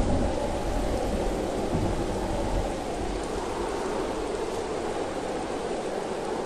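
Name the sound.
heavy rain and thunder during typhoon Kristine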